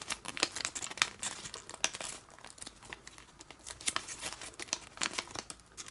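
Paper being folded for an origami cross bookmark, a close, quiet series of crinkles and crisp rustles as the flap is pressed over, irregular and fairly soft.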